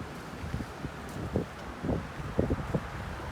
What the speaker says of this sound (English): Wind's blowing pretty good.